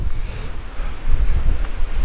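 Strong wind buffets a microphone on a misty mountain summit during heavy rain, a loud continuous low rumble with gusts swelling and dropping, no voices.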